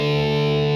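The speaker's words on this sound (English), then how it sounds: "Marshall amp distortion." Picked electric guitar through a heavily distorted Marshall amp, sampled from an EastWest library: a single sustained, hard-driven note with dense buzzing harmonics, loud and close, ringing alone without decay.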